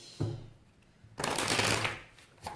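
A deck of cards is cut and riffled close by: a soft single tap, then a brief papery flutter of cards lasting under a second, quiet and without talk.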